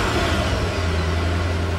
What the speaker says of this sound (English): And the sound effect is a car engine.